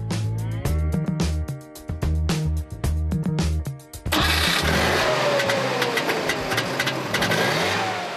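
A Trabant P601S's 0.6-litre two-cylinder engine cranks in several choppy bursts, then catches and runs with a loud, rattly, uneven putter close by.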